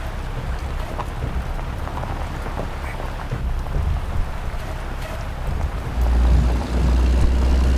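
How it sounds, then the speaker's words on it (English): Steady rain beats down in American Truck Simulator on an Australian outback map, a continuous wash of drops over a low truck engine rumble that swells slightly near the end; no thunder stands out. "especially with the rain going on"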